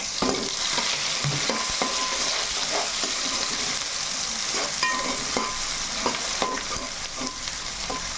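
Onions and tomatoes fry in a pan for a chicken feet curry, with constant sizzling while a spoon scrapes and stirs in repeated strokes, close and fairly loud.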